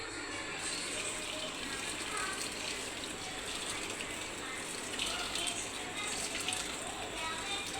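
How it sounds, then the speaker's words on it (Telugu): Hot water pours steadily into a pot of curry-leaf chicken pulao, a continuous moderate gushing splash that runs through the whole stretch at an even level. "ఇప్పుడు ఇందులో హాట్ వాటర్ అయితే వేసుకుంటున్నానండి."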